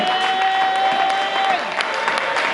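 A church congregation applauding and cheering, a dense, continuous wash of clapping and voices close by, with a sustained tone running over the first part.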